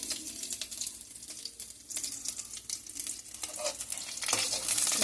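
Dried red chilies and green chilies sizzle and crackle in hot oil in a pan for a ridge gourd chutney, with close, uneven bursts of frying and stirring scrapes, loud and alone without talk.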